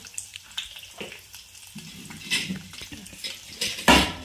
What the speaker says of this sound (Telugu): ఒక కళాయి తీసుకొని అందులో కొంచెం జీలకర్ర, కరివేపాకు, నూనె వేసుకొని